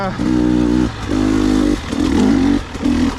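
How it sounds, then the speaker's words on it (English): A 2020 KTM 300 XC-W Six Days two-stroke dirt bike runs loud and close, its buzzing engine note rising and falling in short repeated blips of the throttle with brief dips between them. "So I have my 2020 KTM 300 XC-W 6 Days edition"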